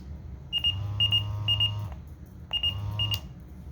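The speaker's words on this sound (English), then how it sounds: "the vibrator works, so, or the buzzer, or whatever" A Motorola Minitor V pager's buzzer alert sounds in two bursts of rapid beeping over a low vibrating hum, with a short gap between them.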